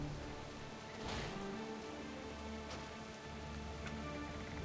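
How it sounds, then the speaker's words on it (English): Steady rainfall in World of Warcraft, a soft continuous patter of drops hissing across the scene at an even level alongside faint background game music. "We weren't expecting rain."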